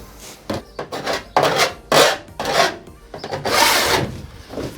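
Rough sandpaper wrapped tightly around a hard wood block rasps in a quick series of back-and-forth scraping strokes while prepping for a bonded van window, close and uneven in force, with no talking.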